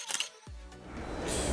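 An Oppo Find N3 phone camera fires a quick shutter-style click, followed by a rising hiss of room noise and faint background sound, with no talk over it.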